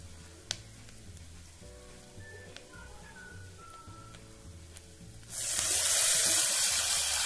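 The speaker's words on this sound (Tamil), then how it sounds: "தண்ணி இதில் இப்போ ஊற்றிட்டேன்." Water for rice upma pours suddenly into a pot with a loud, steady rushing splash, following a few seconds of quiet kitchen background with faint clinks.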